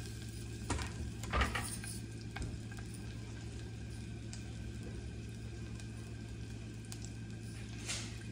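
Onions and green chillies fry with curry leaves in a pan, a faint steady sizzle under a low hum, punctuated by a few utensil taps and clinks near the start and end.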